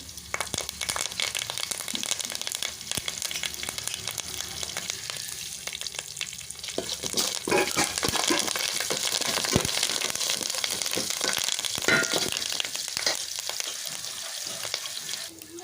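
Curry leaf sprigs frying in hot oil for mango rice, a loud, continuous crackling sizzle with bursts of spitting and stirring scrapes, close and steady with no talk.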